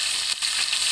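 Potatoes fry in hot oil with a close, dense sizzle, a continuous bright hiss that briefly dips once before resuming.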